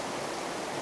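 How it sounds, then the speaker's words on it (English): Water rushes down waterfalls outdoors in a steady, dense broadband roar, continuous and fairly close, with no talking. "while you lot are watching the water come down the waterfalls"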